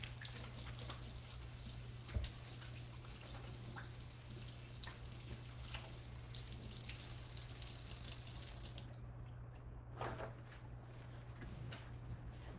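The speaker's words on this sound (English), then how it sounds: "I need to wash my hands real quick." Tap water runs steadily into a sink during a quick hand wash after handling pumpkin seeds, a continuous even hiss with a few small splashes and a short change in the stream near the end.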